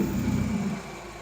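A Hyundai forklift engine that runs extremely rich turns over and runs with a steady low rumble, close and fairly loud, then eases off toward the end of the short burst.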